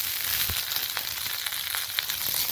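Small shallots and curry leaves crackle and sizzle in hot oil for sambar, a loud continuous fry with sharp pops scattered throughout.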